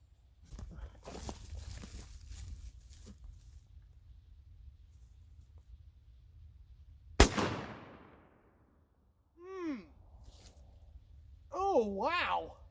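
A Stevens 301 20 gauge shotgun loaded with HEVI-18 TSS shells fires one loud, sharp blast outdoors that rings off into the distance, with someone talking before the shot and again afterward.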